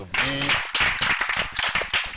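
An audience at a live Ondo State roundtable broadcast claps for an honoured guest in a brief, close burst of applause, with a voice briefly heard at the start.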